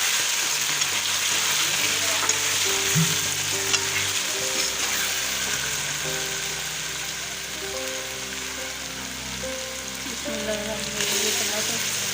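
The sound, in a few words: garlic ginger paste frying in hot oil for chicken curry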